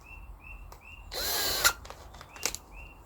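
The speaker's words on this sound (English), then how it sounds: "so if I just drill a little hole through there first" A power drill bores through a plastic shed roof in one short, loud whirring burst lasting about half a second, with faint birdsong in a quiet yard around it.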